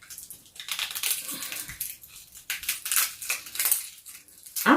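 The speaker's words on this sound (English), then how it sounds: "that first outer layer off the onion" An outer layer of onion skin is peeled off by hand for a vegan pot roast, giving close, dry, papery crackling and rustling in uneven bursts with short pauses, and no talking.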